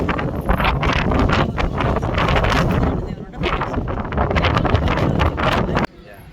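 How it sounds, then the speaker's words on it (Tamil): Strong wind buffets the microphone outdoors at the Thanjavur Big Temple, a loud, continuous roaring rush with gusty surges that drops off abruptly near the end. "செம்ம காற்று."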